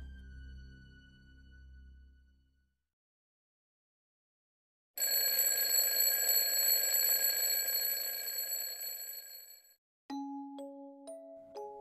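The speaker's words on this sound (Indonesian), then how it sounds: "Suara alarm dari telepon genggamku terdengar meramaikan pagi" An electronic alarm tone sounds loudly and steadily for several seconds, stops briefly, then a different beeping melody of stepped notes begins.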